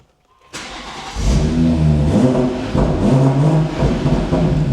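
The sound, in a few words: BMW M140i engine revving with M Performance exhaust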